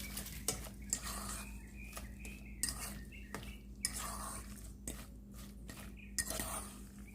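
Lobster meat is tossed with seasoning in a bowl, with a series of light clinks and scrapes of a utensil against the bowl at an irregular rhythm, quiet and close.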